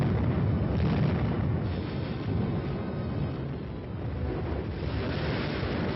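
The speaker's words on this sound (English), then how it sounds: "the firing data is prepared and the guns respond" Artillery guns fire a barrage on a battlefield: a dense, continuous roar of blasts and rumbling, loud and broadband throughout, easing slightly midway before swelling again.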